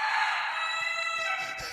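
A rooster crows near a farmhouse, a steady drawn-out call heard on its own with no talking.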